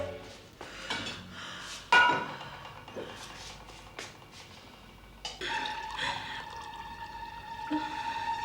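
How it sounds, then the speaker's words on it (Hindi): Water is poured into a glass amid clinks of glassware and dishes in an indoor scene, with a short liquid pour stream following a sharp clink, fairly faint and with no talking. "सुधा रिलैक्स, मैं तुम्हें पानी देता हूँ।"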